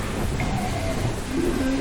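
Steady rain with low rumbling thunder in the Cthulhu adventure game Gibbous, a dense, continuous storm wash over about two seconds with no speech.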